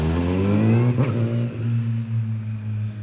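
Kawasaki ZX10R motorcycle engine revving loudly with strong steady harmonics, a brief break and pitch shift as it upshifts, then holding a lower drone, close and alone.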